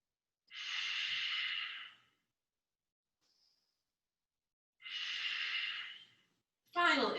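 Two long, deep breaths, slow and airy, come close and calm during a slow-flow yoga session, separated by a few seconds of silence. A short voice enters at the end.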